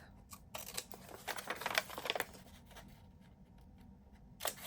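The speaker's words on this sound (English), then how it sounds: "I'm going to trim this off" Scissors trim the bottom of a book page for junk journal ephemera, a series of close, crisp snipping cuts in quick bursts with quiet pauses between them.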